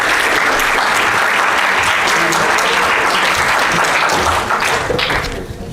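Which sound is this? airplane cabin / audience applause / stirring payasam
audience applause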